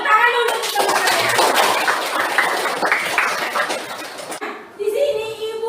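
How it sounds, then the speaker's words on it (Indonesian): Classroom of students clapping for their classmates, a dense patter of many hands filling the room for several seconds, mixed with chuckles and a teacher's voice before and after. "Tepuk tangan dulu untuk teman-teman."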